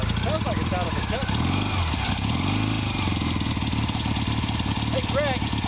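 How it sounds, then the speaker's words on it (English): A kick-started motorcycle engine runs at a steady close idle, its dense rhythmic putter continuing throughout while someone talks over it. "The other way to do it is get off the bike and kick it started on this side."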